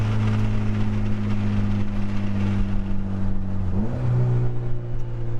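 A beater Mitsubishi Lancer Evolution 8 with an aftermarket exhaust hums at a steady, deep idle, then the pitch dips and rises briefly as the throttle is blipped.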